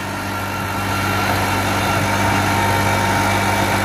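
A New Holland 3630 tractor works a rotavator under heavy load through untilled field ground, its engine holding a loud, steady, continuous drone with a deep low rumble and no talk.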